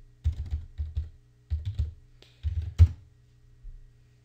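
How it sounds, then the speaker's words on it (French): A password is typed on a computer keyboard in short bursts of close, crisp key clicks separated by pauses, ending with a firmer single keystroke. "Là je tape mon mot de passe."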